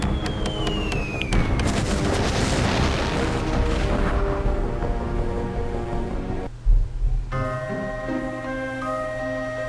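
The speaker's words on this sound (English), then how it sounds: "Razorbeard tried to kill Rayman with an explosion" A big explosion in the video game Rayman 2 roars out as a long, dense rumbling blast that fills several seconds, then cuts off abruptly to quieter game ambience with a sustained tone.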